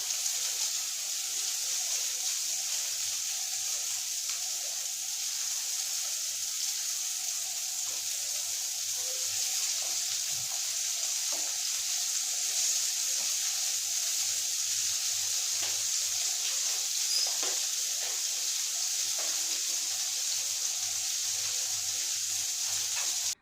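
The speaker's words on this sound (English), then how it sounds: "Now quickly fry the bread." Bread sizzles steadily in hot oil in a pan for a mushroom tower treat, a continuous close hiss holding an even level throughout with no voices.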